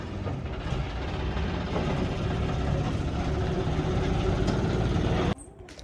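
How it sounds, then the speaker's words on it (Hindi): A farm tractor engine runs steadily at close range with a constant low rumble for about five seconds, then cuts off abruptly, leaving near quiet. "ट्रैक्टर बंद होने के बाद कितनी शांति सी मिली है"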